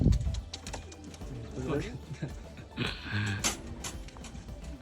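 Racing pigeons coo nearby in soft, throaty bursts that come and go, mixed with faint voices and light handling noise.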